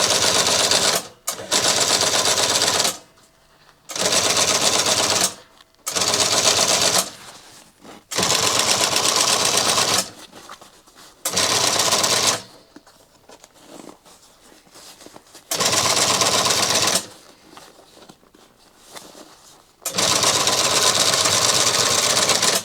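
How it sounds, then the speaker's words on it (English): A sewing machine stitches piping onto 1967 Dodge Charger seat upholstery in repeated bursts of rapid mechanical chatter, each run lasting a second or two and separated by short pauses, close and loud. "I can feel the piping, and that's what's guiding where I'm sewing."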